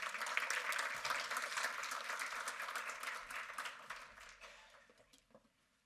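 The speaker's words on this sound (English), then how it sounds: "Please give him a round of applause." Audience in a conference room applauding a guest speaker, a dense wash of clapping that gradually fades out over several seconds.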